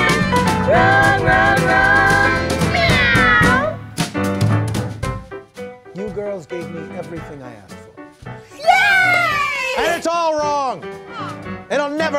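A human voice imitates a cat's meow within a sung, playful vocal line, with rising and falling meow-like wails standing out loudly between other vocal phrases.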